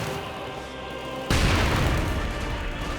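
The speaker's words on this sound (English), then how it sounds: "There we go, mortar." A mortar fires in the World War II strategy game Company of Heroes 2, a sudden loud boom breaking over quieter battlefield ambience, followed by a sustained, dense rumbling roar.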